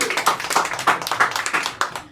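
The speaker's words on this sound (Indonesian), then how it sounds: "Tepuk tangan buat kalian." Sparse, uneven clapping from a small comedy-show audience, individual claps clearly separated in a loose rhythm that trails off after a couple of seconds.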